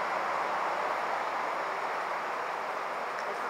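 Loud, steady broadband rumble and hiss from a train at Boseong station in South Korea, continuous and close without any break.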